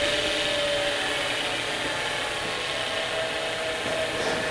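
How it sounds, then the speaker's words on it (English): A steady whirring, hissing noise with a faint high whine runs continuously and evenly throughout from an inexpensive live center bearing on a lathe turning at about 1800 rpm. "The noise you're hearing is that live center"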